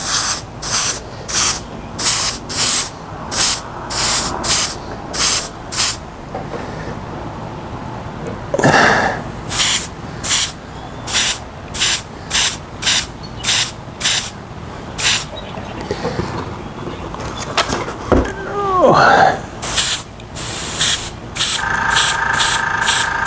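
Spray paint hissing onto plaques in repeated short bursts with brief pauses between, close and fairly loud, switching between colors, with a few faint handling noises in between.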